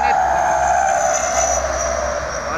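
A Roselia Indah Jetbus 3 super double-decker coach with a Volvo B11R engine passes on a highway, a loud, steady roar and tonal whine of engine and tyres, close by, with a voice speaking over it.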